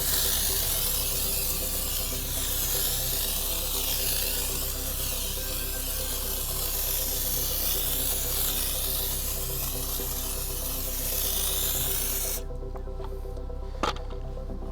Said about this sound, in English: we'll pump it up a handful of times, and then we'll spray it on the wheel